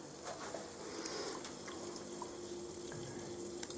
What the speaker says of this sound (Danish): Det er lidt springvand.